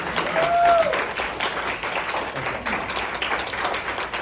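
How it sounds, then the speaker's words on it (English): A standing audience gives a sustained round of applause lasting several seconds, with a brief vocal exclamation near the start riding over the steady, dense clapping. "Can we please stand and give Coach Camp a round of applause for an amazing job"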